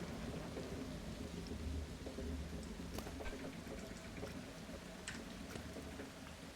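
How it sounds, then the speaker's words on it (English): Simulated rain and thunder in the Planet Coaster 2 theme-park video game: steady dense rainfall hissing throughout, with low thunder rumbles and a few sharp crackling strikes, fairly quiet overall. "The rain effects are crazy good, but it is raining a lot."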